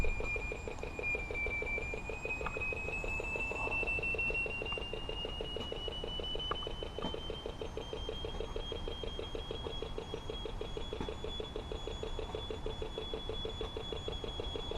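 Ferret finder locator in search mode gives a steady high-pitched electronic tone that slowly rises in pitch, with a faint rapid pulsing beep underneath, continuous and fairly close.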